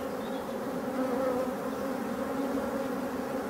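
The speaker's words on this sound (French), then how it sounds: "Regardez ça, l'abeille, abeille noire" A dense, steady hum of many black honey bees buzzes continuously at a hive, close and unbroken with no voices.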